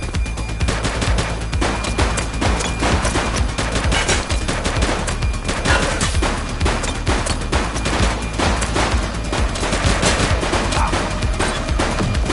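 Dense, continuous gunfire in a police shootout in the game The Precinct, with loud rapid bursts and overlapping shots that run without a break.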